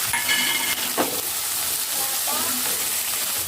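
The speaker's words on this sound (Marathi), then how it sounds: "ह्या भाज्या आपल्याला अर्धा मिनिट फक्त तेलात छान परतवून घ्यायच्या आहे।" Onion greens and chopped tomatoes sautéing in hot oil in a pan, a continuous close bright sizzle with a few scraping stirs of a spoon, fairly loud and steady.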